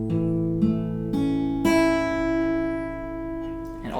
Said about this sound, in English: So this is what each individual string sounds like, starting from the 5th string.